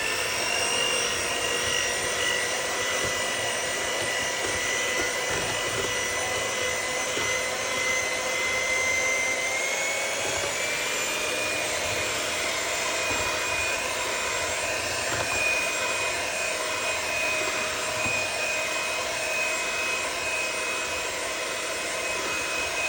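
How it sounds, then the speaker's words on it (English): An electric hand mixer whirs continuously through banana bread batter with mashed bananas, a steady loud motor hum that shifts pitch slightly partway through, with no talk over it. "we're going to get our hand mixer and we're going to go mixing"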